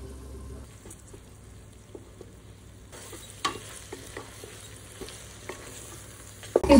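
Ginger garlic paste and lightly browned onions stirred in a pan, a low sizzle under a series of spoon scrapes and taps against the metal, close up, growing louder near the end.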